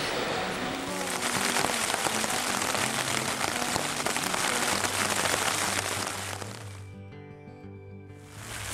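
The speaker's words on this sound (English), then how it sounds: "So rain halts the hike" Steady heavy rain pattering on a surface on the South West Coast Path in Cornwall, dense and close, fading briefly near the end before picking back up.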